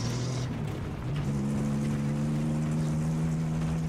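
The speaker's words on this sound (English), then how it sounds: "Sounds like there's something wrong with the muffler." A buggy in the Battlefield 3 video game runs with a rough, steady engine drone, loud and close, its tone shifting slightly as it revs, with no talk over it.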